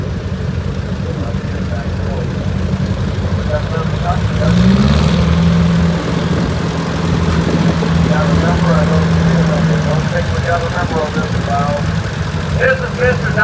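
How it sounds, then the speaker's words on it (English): A Cockshutt tractor with a four-cylinder Detroit engine runs at a steady idle at a tractor parade, a low continuous rumble with a drawn-out tone partway through and someone talking over it. "It's got the 4-cylinder Detroit in it, as you can hear."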